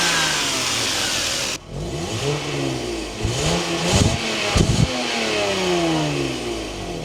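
A Lexus GS300 with the 3-liter 2JZ inline six revs hard near the microphone, the engine pitch sweeping up and down through several sharp throttle blips after a brief cut, with no voices.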